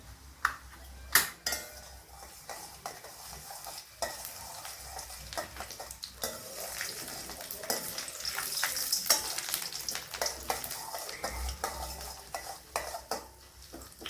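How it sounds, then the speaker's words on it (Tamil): Chana dal and urad dal fry in sesame oil with mustard seeds, a steady close sizzle broken by frequent sharp clinks and scrapes of a spoon stirring the pan. "கடலைப்பருப்பு போட்டுக்கலாம் நல்ல எண்ணெயாக இருக்கிறதுனால போக வருதுங்க உளுத்தம்பருப்பு போட்டுக்கலாம்"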